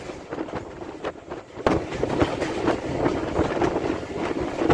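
A train running on rails between stations in Pakistan's Punjab, a steady close rumble with rhythmic clickety-clack of wheels over rail joints, growing louder after a sudden jump partway through.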